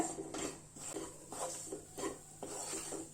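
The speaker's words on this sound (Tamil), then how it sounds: "இந்த மாதிரி கிளறி விட்டுக்கிட்டே இருங்க, கை எடுக்காம" Gram flour (besan) is roasted in a pan for laddu while a utensil stirs it continuously, producing rhythmic scraping and rubbing strokes against the pan bottom, close and steady, with no talking.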